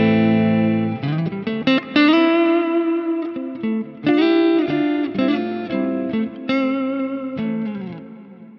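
A clean electric guitar plays ringing chords and single notes through an amp, with tape delay and plate reverb, each phrase trailing into echoing repeats and a wide reverb tail.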